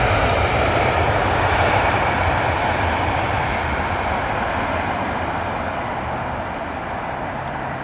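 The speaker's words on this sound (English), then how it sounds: "Awesome arrival from the Dreamliner." A Boeing 787-9 Dreamliner jet arriving at Heathrow, its engine roar steady, broad and loud from the start, then easing slightly as it passes, with no voices.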